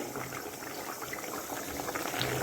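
Thin fish curry of katla with potatoes and green chili boiling steadily in a pot, a constant close bubbling hiss that runs unbroken throughout.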